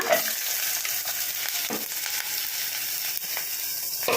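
Ginger, green chilli and onion fry in hot oil in a pan with steady close sizzling, and a spoon scrapes and stirs through them now and then, with no voices.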